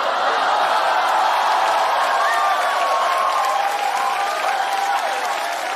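A stand-up comedy audience breaks into loud, sustained applause mixed with cheering and scattered laughter. The dense clapping holds steady throughout and fades only slightly at the end.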